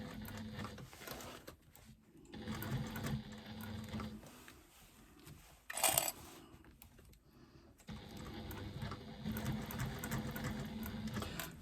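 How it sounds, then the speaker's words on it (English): A domestic sewing machine with a knee lift stitches piping onto exterior fabric panels, running in rapid mechanical bursts separated by short pauses, close and moderately loud with no talking. "I've got a knee lift on my machine, so I use my knee lift rather than the little knobble at the back to lift my foot."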